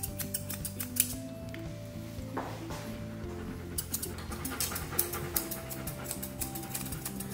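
Quiet, rapid snips of grooming scissors cutting a Bouvier des Flandres dog's hair, in irregular bursts with a short pause midway, close and crisp against a soft background.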